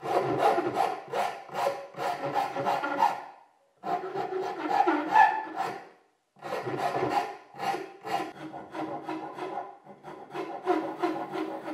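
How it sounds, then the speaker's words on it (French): A wooden part for a frame saw is shaped with a hand rasp, producing close, loud bursts of rhythmic rasping strokes separated by brief pauses. "je fais toute la finition à la râpe"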